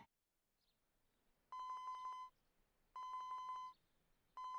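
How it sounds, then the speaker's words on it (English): Cell phone ringing in the video game 428: Shibuya Scramble, three evenly spaced electronic beeping tones, each under a second long, with short quiet gaps between them, clear and alone. "Osawa's cell phone rang."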